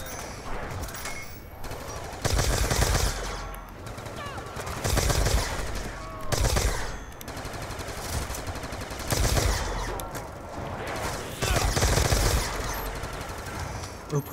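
A ray gun firing in a zombies video game, heard as bursts of rapid electronic shots in repeated volleys of about a second each, with a constant game backdrop and a voice speaking faintly between bursts.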